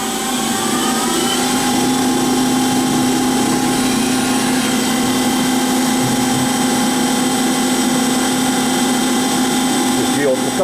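A Weldon 1632 Gold CNC universal cylindrical grinder runs its automatic cycle with a continuous, loud, close mechanical hum and a steady whine. The sound stays even throughout, with a slight shift near the end.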